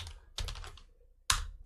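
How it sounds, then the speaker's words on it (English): Typing on a computer keyboard while renaming an Excel worksheet: a short burst of close key clicks, then a pause and one sharper keystroke like the enter key, quiet and without talk. "start typing, hit your enter key"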